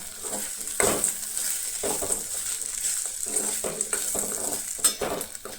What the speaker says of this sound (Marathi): आतां हांगसर हांव शेंगदाणे घालतलें बीन अशें बरें मिक्स करून घेतलें.